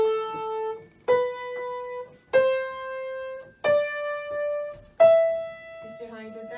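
Five sustained instrumental notes starting on A and stepping upward by seconds, each attacked separately about a second apart with clear harmonic tone, clear and close, ending with a brief voice.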